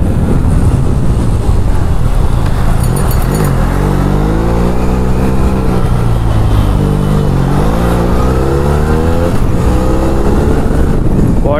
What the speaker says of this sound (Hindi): what a beautiful engine